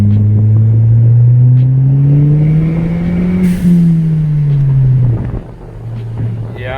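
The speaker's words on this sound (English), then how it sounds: "Yeah, it's building boost again." A turbocharged Ford Fiesta ST engine builds boost as it pulls, a loud, steady drone climbing in pitch for several seconds, then dropping sharply as the revs fall near the end.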